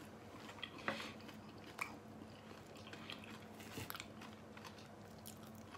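Crunchy bites into a freshly fried, crispy Thai snack, two sharp crisp bites early on followed by soft chewing, close and fairly quiet over a low background hum.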